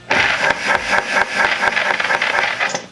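A homemade pottery wheel's motor runs in a loud, steady drone with a rough, rattling hum, continuously up close despite foam damping underneath, before cutting off at the end.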